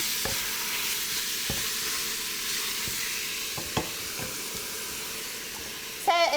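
Onions hit a hot pan for a tailgate recipe and set off a soft, steady sizzle with a few light clicks and clatters of utensils. A brief voice-like burst comes near the end.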